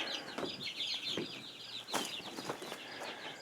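A six-year-old White Rock hen clucking softly in a farmyard, a series of short, quiet clucks in an uneven rhythm with faint rustling around her.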